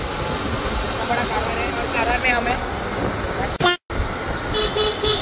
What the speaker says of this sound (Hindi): ऐसे हॉर्न मारते हैं कारवार में